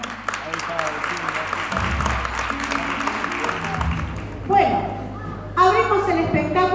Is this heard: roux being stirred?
no